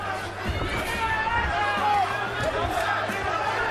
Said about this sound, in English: Crowd chanting for Tim Bradley.